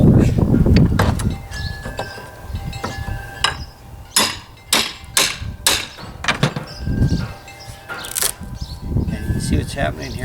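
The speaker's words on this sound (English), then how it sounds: "the tools we use for this are things like crowbars and hammers" Sharp metallic hammer blows and clinks as a wooden pallet is pried and knocked apart with a hammer and crowbar, irregular strikes clustered in bursts, with someone talking at times.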